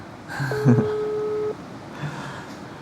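A telephone call rings out with a steady electronic tone of about one second, then a fainter repeat, heard quietly indoors with no talk over it.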